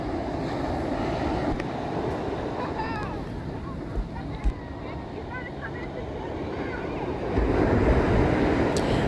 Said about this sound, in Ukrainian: Давно я не відчувала цього запаху океану, не слухала шуму хвиль.